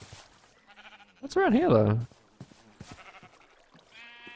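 In the Minecraft video game, a sheep lets out a loud wavering bleat up close in the middle, with a person talking casually before and after it.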